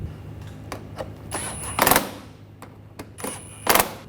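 Screws being tightened on an interior panel of a 2009-2013 BMW 328i with a power driver, giving two short whirring bursts with ratcheting clicks, separated by lighter taps and handling knocks.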